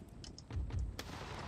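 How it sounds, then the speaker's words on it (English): Cannon fire in Empire: Total War: a few muffled booms and cracks, one deep thump followed by a sharper report, fairly faint in the distance. "My cannon are still firing for some reason."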